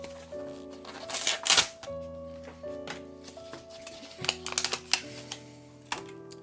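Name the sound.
unwrapping plastic wrapping from a POSCA paint pen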